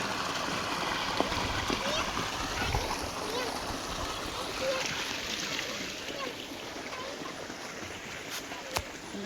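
Water pouring and splashing steadily into a flooded lotus field, a constant rushing splatter heard close with occasional sharper clicks, while people talk over it.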